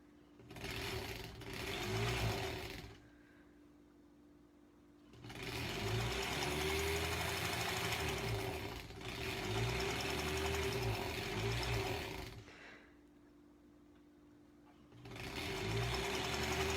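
A sewing machine stitches a scant quarter-inch seam joining granny square quilt blocks, running in three long steady whirring bursts separated by quiet pauses, close and clear.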